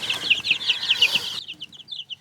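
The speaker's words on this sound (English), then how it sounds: "I think this is going to be a rooster." Young chickens on a farm cheep and cluck in a quick run of high, close chirps, loud at first, then dropping to sparser, quieter peeps.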